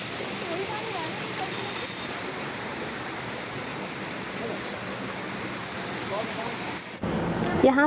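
Steady, dense rush of splashing water from the fountains in a park at the ISKCON temple in Delhi, loud and unbroken for most of the stretch, shifting in tone and growing slightly louder near the end.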